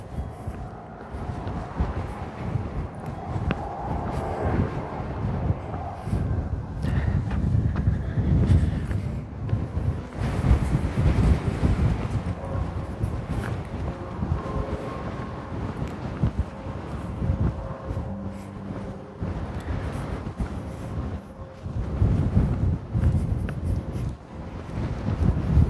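Strong, gusting wind buffeting the microphone outdoors at Theodore Roosevelt National Park in North Dakota, a continuous low rumbling roar that swells and eases for the whole stretch.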